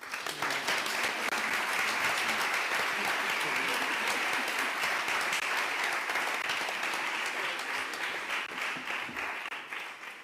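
An audience at a symposium applauds its panelists with sustained, loud clapping that holds steady for several seconds, then gradually thins toward the end.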